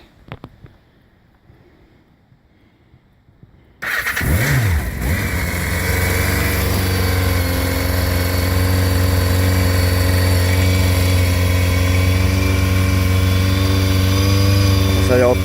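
A Kawasaki ZR-7 motorcycle engine cranks after a quiet lead-in, catches with a rough burst near the rider, then settles into a loud, steady idle held with a little throttle.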